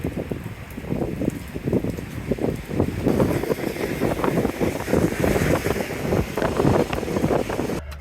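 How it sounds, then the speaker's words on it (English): Cold, steady wind gusting outdoors, a continuous rushing roar buffeting the microphone with rising and falling swells and no voices. "it just started blowing wind and it's freezing"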